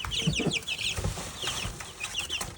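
Young chickens in a box inside a home make rapid, overlapping clucks and peeping calls close by, a busy continuous chatter with no speech over it.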